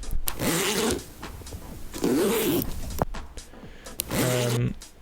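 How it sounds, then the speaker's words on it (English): A zipper is pulled open and shut several times in quick rasping strokes, recorded close up on a phone, with brief pauses between each pull. "So I have recorded a zipper here."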